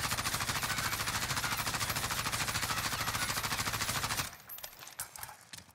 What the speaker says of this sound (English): Let's go ahead and shoot right here at this end, and let's see what happens without stopping power rounds.